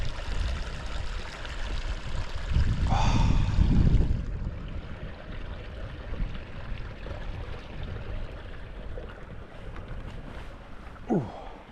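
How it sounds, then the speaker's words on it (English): A small moorland stream flowing over stones on a hot day, a steady close burble and trickle running throughout, with a brief swell of rushing water partway through. "Cute little stream."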